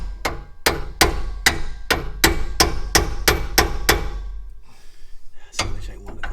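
Hammer blows strike a stuck tie rod end on a truck suspension during a coil-over and radius arm lift install, about ten sharp, evenly spaced metallic whacks followed by a pause and a couple more knocks.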